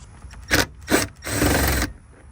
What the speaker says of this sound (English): On this piece, you can just pry it with a flathead, or you can try it with your nails.